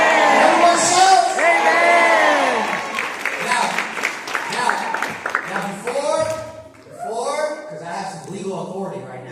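A church congregation shouts, whoops and claps loudly after the closing prayer at a wedding, a dense crowd roar filling the whole stretch with excited voices.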